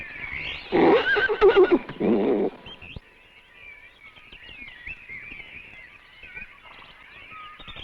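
A newborn thoroughbred filly at a New Zealand stud lets out a close, loud whinny lasting about two seconds, followed by quieter background birdsong and faint rustling.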